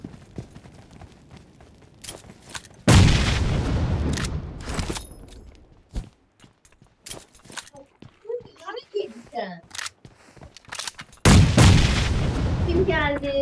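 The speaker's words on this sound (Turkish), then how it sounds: "Bomba attı." Grenade blast and gunfire in the mobile game PUBG Mobile, with two loud booming bursts some seconds apart amid scattered shots, while a player talks between them.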